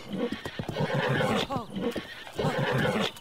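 A horse in The Legend of Zelda: Breath of the Wild gives a short, close whinny midway, framed by clip-clopping hooves and game music, while someone talks over much of it.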